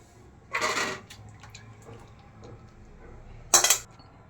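Jackfruit curry tipped from a cooking pan into a serving dish, giving two short bursts of scraping and clinking, one early and one near the end, with quiet kitchen ambience between.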